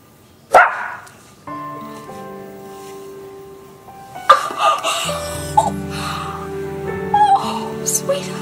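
A dog barks a few times during a soap opera scene, a sharp bark at the start and more later amid swelling music, gasps and voices.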